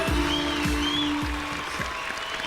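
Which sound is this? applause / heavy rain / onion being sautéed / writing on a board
applause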